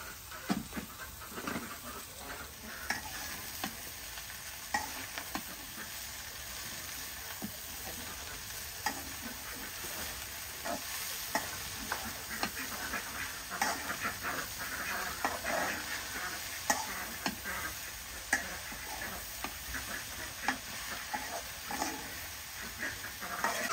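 Water spinach and green chillies frying with onions in a pan in a village kitchen, a steady close sizzle and hiss with frequent stirring scrapes running throughout.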